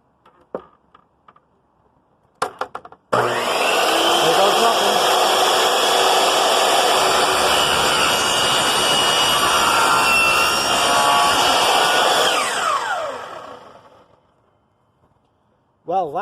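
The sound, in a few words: power saw cutting wood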